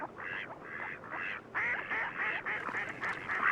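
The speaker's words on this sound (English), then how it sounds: "Mallards court during migration, and by early spring, most pairs are already established." Mallard ducks on a marsh pond calling in a series of nasal quacks, several rasping calls in quick succession at moderate distance, growing slightly louder toward the end.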